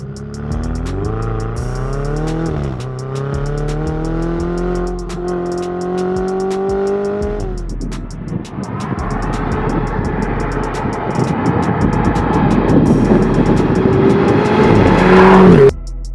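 A Ferrari 488 GTB sports car engine revs hard while driving. Its loud, close engine note climbs steadily, drops at a gear change, then roars on strongly with no talking.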